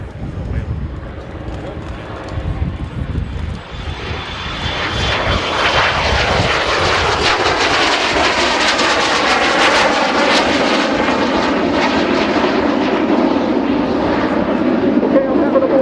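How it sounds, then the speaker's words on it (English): Twin Junkers Jumo turbojets of a Messerschmitt 262 jet fighter at an air show, a loud broadband roar that swells as the aircraft approaches and passes, with a commentator speaking over the engine noise. "the jet sounds of yesteryear. The dual junkers Jumo turbojets of the Messerschmitt 262."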